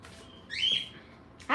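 A small pet bird gives a short, bright whistled chirp indoors, followed about a second later by a sharper, louder burst of call. Both sounds are close and stand alone over a quiet room.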